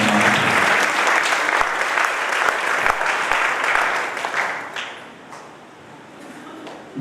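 Loud applause from a church congregation, dense and sustained, gradually thinning out toward the end.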